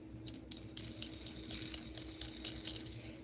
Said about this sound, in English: that's the sound of plastic against plastic